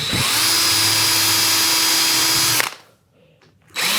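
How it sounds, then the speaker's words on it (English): A drill driver boring a hole through wood whines steadily at high speed for a couple of seconds, then cuts out, leaving brief quiet before another short burst starts. "So I need a drill driver. Let's drill a hole through here like this."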